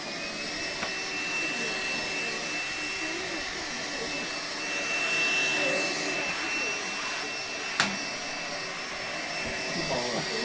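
A Karcher HV 1/1 Bp Cs battery handheld vacuum cleaner runs at full power with a steady, high whining roar close by throughout, with a brief knock near the end.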